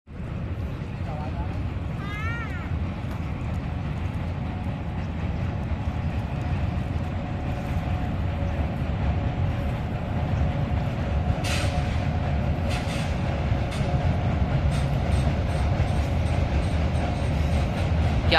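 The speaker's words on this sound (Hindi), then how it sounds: "वो देखो ट्रेन भी आ गई अब।" A train rolls past near a river, giving a loud, continuous rumble and rattle of wagons that lasts the whole stretch, with voices mixed in underneath.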